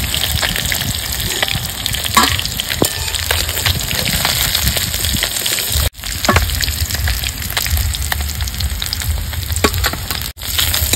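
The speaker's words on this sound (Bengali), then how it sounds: "তেল গরম হয়ে গেছে, এবার দিয়ে দেবো মাছগুলো" Katla fish frying in hot oil in a kadai, a steady loud sizzle and crackle filling the whole stretch with brief spitting pops and two short dips, no voices.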